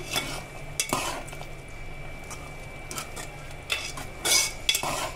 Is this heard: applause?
no